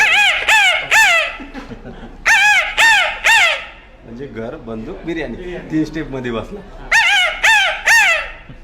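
A person imitates a jungle fowl's call, loud harsh crowing notes in quick bursts of three, with a short stretch of speech between them.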